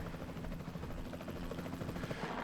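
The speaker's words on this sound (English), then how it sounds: "The helicopter's not going the direction I wanted to." A helicopter flies in the Jurassic World Evolution 2 video game, giving a faint, continuous rotor whir and engine drone with a steady chopping texture and no speech over it.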